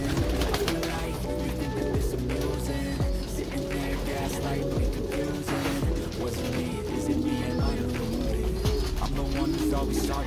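Pigeons cooing in a pigeon loft, with low repeated coos over a steady, busy background of other bird sounds and some faint voices.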